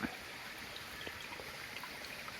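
Spring water from underground trickles out at a stream's source deep in a mountain forest, a soft steady wash of flowing water with faint splashy ticks, close and continuous throughout.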